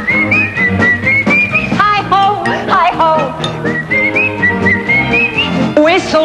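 A person whistles a lively melody, clear and close, with bright sliding notes over a backing of music.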